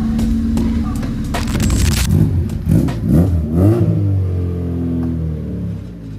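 Car engine revving up in a few rising bursts, loud and close, fading to a lower rumble, with speech over the end.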